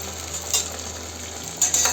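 Raj kachori dough sits in hot oil in a kadhai, giving a continuous close hiss of frying that swells briefly louder toward the end, with no talking.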